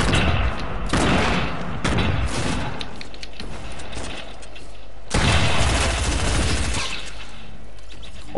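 Dense video game battle noise from a shooter: sustained loud gunfire bursts with heavy booming blasts, including a grenade explosion, layered continuously and close throughout.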